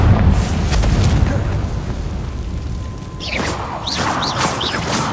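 A Confringo fire spell blast from Hogwarts Legacy lands as a loud rumbling boom with crackling debris, then fades into swishing, whooshing magical tones that rise and fall several times.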